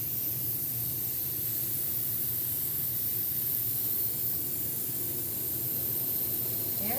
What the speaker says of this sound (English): Right now I'm just spraying out, because even though I put the new color in, there's still some yellow in the brush